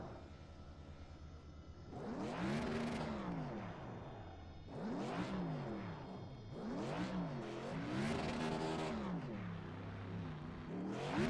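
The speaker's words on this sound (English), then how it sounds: "That's a long burnout." Race car engines in an iRacing NASCAR race at Homestead rev repeatedly through a long burnout, with rising and falling harmonic sweeps, loud and close, with no talk over them.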